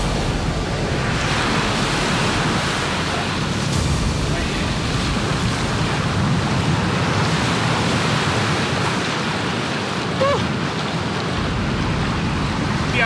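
Ocean waves break and wash up a beach during surf fishing for rays, a loud, steady roar of surf with wind that fills the whole stretch with no pause.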